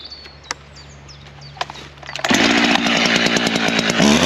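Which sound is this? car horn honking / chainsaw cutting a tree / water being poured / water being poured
chainsaw cutting a tree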